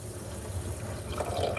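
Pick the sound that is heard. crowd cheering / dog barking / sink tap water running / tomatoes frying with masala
sink tap water running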